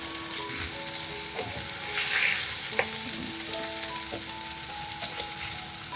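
Fish for a Sri Lankan themparaduwa fries in a pot with salt, pepper and chili flakes, giving a steady close sizzle with soft stirring scrapes, a brief louder hiss burst midway and a few light clinks.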